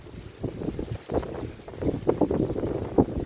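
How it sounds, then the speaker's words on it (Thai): Strong wind gusts buffet an outdoor garden in the rainy season, roaring and rumbling against the microphone in uneven surges. "ลมแรงนะคะ ลมแรงมาก"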